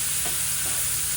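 Smash burgers sizzle on a hot camp grill or griddle, edges crisping, a steady close hiss of frying fat that runs without pause for the whole stretch, with no voices over it.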